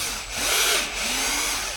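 A power drill whines in two short bursts while presetting screw holes for antlers on a whitetail mannequin form, close and steady with a brief dip between runs.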